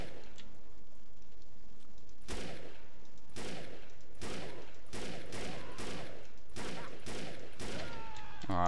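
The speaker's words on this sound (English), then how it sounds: "Who's shooting me?" Gunfire aimed at the player in the video game Defiance, sharp bursts and single shots that start after a quiet stretch and then repeat roughly every half second to second, fairly loud.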